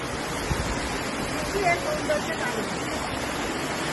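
Water pours down a waterfall in a steady, dense roar of broadband rushing noise that holds even throughout, with faint voices and a few thin tones barely showing beneath it.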